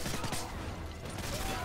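Assault rifle gunfire in Call of Duty: Modern Warfare 3, a dense, continuous burst of game combat filling the whole moment at steady loudness, with other shots and battle noise layered together.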